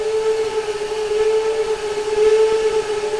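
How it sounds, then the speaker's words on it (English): A steam whistle on an NP S-10 4-6-0 locomotive in Trainz 2019 sounds as one steady, sustained tone, loud and close, lasting several seconds over a faint hiss. "the whistles are in the same spot on all the locomotives"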